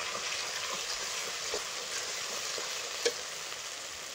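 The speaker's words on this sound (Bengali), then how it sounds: "জল দিয়ে মশলাটা কষিয়ে নেব।" A spice paste of turmeric, salt and whole dried chillies is stir-fried with water in a pan: a continuous, even, hissing sizzle up close, with faint stirring strokes and one small clink.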